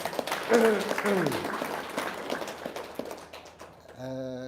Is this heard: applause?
yes